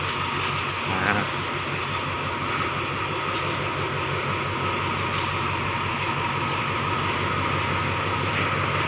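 A passenger train, express 107, accelerates past nearby, a broad continuous roar of engine and wheels that holds loud throughout.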